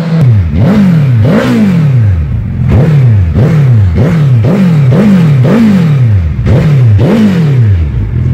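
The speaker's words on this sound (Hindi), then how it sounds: "अभी हम आपको इस बाइक की साउंड सुनाते हैं, इसको स्टार्ट करते हैं" A 2019 Suzuki Hayabusa motorcycle engine revs repeatedly, roaring up and dropping back in a steady series of loud, close throttle blips with no talking.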